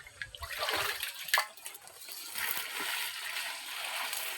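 Water runs and splashes during laundry washing, a close, uneven gushing with brief splatters, steadier toward the end.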